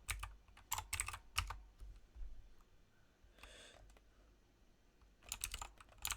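Typing on a computer keyboard while entering code, with quiet clusters of keystroke clicks that come in short bursts separated by pauses, close and soft, no talking.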